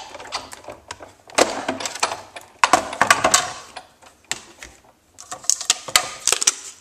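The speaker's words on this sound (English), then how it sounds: "Run it through our Big Shot." Big Shot die-cutting machine cranked through an acrylic sandwich with a framelit die, giving a series of close, sharp clicks and ratcheting clatters in irregular bursts with brief pauses.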